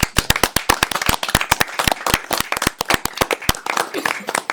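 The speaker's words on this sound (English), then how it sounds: "Let's give them a round of applause." Sharp, uneven clapping from a modest council-meeting audience, individual claps distinct and close, forming a brief scattered round of applause.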